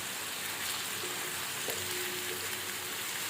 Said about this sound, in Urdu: اب ہم اس کے اندر ادرک اور لہسن ڈالتے ہیں اور اس کو تھوڑا سا بھون لیتے ہیں